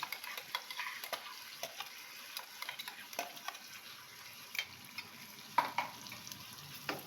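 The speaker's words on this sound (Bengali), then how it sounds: "দিয়ে এটাকেও একটু এর সঙ্গে ভালো করে নাড়িয়ে নেব" Cashew paste being stirred into a jackfruit kofta curry makes quiet repeated clicks and taps of a spoon against the pan over a faint low simmer, steady and close.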